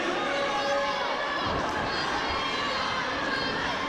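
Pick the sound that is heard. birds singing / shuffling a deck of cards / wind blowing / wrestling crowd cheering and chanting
wrestling crowd cheering and chanting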